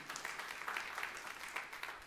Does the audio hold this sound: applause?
yes